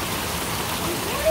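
Rain falling outdoors, a steady broadband hiss of drops filling the whole stretch evenly, close and moderately loud, with no break or change in intensity.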